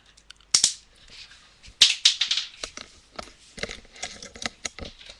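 A LEGO Hero Factory toy cannon fires projectiles in two sharp, close snaps, followed by lighter clicks and plastic rattles of pieces landing nearby, with no talking.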